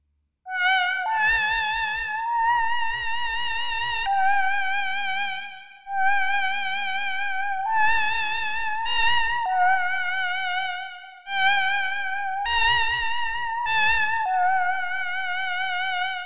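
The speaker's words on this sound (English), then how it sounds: "let's take a listen to this version of the Theremin part." Synthesized theremin-style lead played in Ableton, with random FM curve shapes on its notes: bright, wobbling, vibrato-laden tones glide between pitches in phrases, with pulsing low accents, loud and alone without speech.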